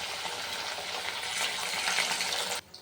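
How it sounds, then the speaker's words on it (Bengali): Chicken pieces frying in hot oil for chilli chicken, a dense loud sizzle that holds steady and swells slightly before cutting off abruptly near the end. "তেল বসিয়ে দিয়েছি, একটা একটা করে চিকেনগুলো ভেজে নিই"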